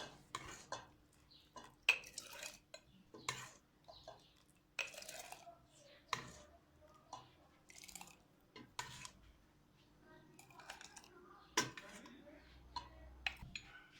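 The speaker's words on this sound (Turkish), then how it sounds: "Reçelimi şimdi kavanozlara koyuyorum. Sıcak sıcak dolduruyorum arkadaşlar." Hot homemade cherry (sour cherry) jam is ladled into glass jars in a home kitchen, with scattered clinks and knocks of utensils against glass and pots, uneven and close, and brief talk in between.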